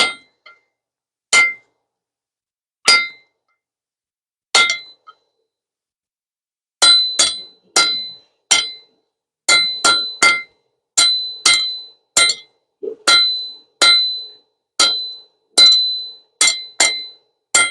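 A blacksmith hammers a scarf on hot steel for a forge weld, sharp bright ringing hammer strikes on the anvil, sparse at first, then a steady rapid rhythm, close and loud.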